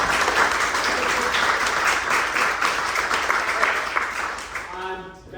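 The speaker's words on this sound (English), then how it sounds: "So if we can all give a round of applause." A room of people claps loudly for a speaker at a local history talk about Chatsworth in the Pine Barrens. The dense, sustained applause lasts several seconds and thins out at the end as a voice begins.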